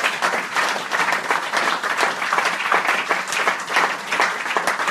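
A church congregation applauds the Lord, sustained dense clapping filling the room at a steady level throughout, with a few scattered voices mixed in.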